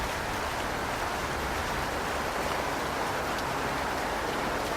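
Rain falls steadily onto the water of an infinity pool on a terrace, a dense, even hiss of drops at constant volume with no voices.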